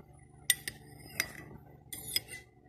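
Cutlery stirring taho, a soft soybean curd dessert, with milk and sago in a cup, several sharp clinks of a spoon against the container, close and quiet, with soft stirring between.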